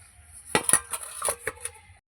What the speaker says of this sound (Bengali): এবার আমি কিছুক্ষণের জন্য ঢেকে রেখে দেবো।